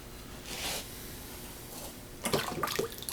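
Liquid raku glaze pours out of a pot and drips, a soft splashing gush early on, then a quieter pause before a burst of trickling, spattering drips.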